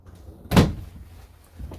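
Drawers in the master bedroom of a 2021 Forest River Arctic Wolf 3990 Suite RV slide open with one solid wooden thump, followed by a fainter knock a moment later.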